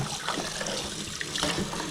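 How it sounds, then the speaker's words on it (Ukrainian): Tap water running steadily into a container to rinse steelhead trout roe, a continuous close splashing rush with a gurgling fill, heard alone without talking. "Набираємо воду"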